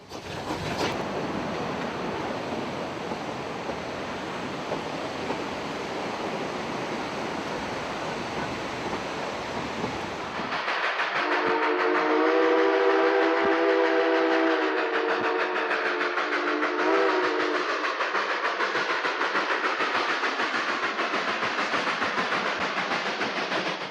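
The Durango and Silverton narrow-gauge train creeps at about 10 mph along a narrow cliff ledge high above a river. A steady broadband rumble rolls on, then turns louder with a sustained tonal squeal or whistle-like whine over the running noise.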